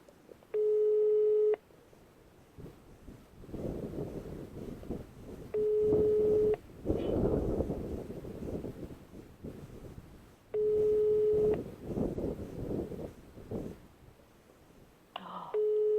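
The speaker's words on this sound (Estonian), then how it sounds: "Helistan Allan Kirotarile" A telephone busy signal heard while calling someone: four evenly spaced, loud one-second tones, each followed by a few seconds of quieter rustling background noise.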